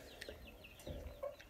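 Chickens and chicks cluck softly and close by, a few short calls with faint high peeping between them and no talk.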